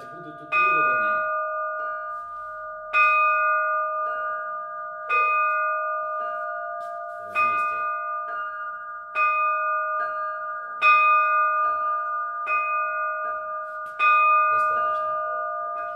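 Zazvon bells rung by hand during a bell-ringing lesson: bright, sustained metallic chimes struck in a regular rhythm about every two seconds, each strike ringing out over a lasting hum, with no voices over them.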